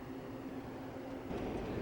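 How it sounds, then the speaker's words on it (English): A double-stack freight train rumbles past at a distance, a steady low droning roar that swells slightly near the end. "Now there's a train going by over here."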